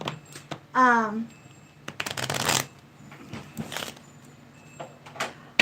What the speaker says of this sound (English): I feel like I really need to shuffle these for you.